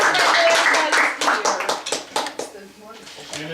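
A group of people at a Christmas brunch clap their hands together indoors, a brisk burst of applause that thins out into scattered claps, with voices talking over it.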